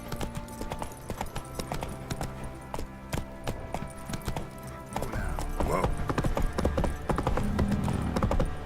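Horse hooves clip-clop steadily on the ground in The Witcher III, a continuous trotting rhythm over game background sound, growing slightly louder toward the end, with a brief whinny.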